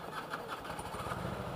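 An old motorcycle engine starting and then idling, a steady close putter with a little unevenness throughout.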